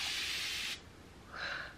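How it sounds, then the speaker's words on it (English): A continuous-mist sprayer bottle fills with warm water and hisses, sending out a close, soft spray for under a second. After a short pause a second, fainter burst follows. "I start off by using warm water in a spray bottle"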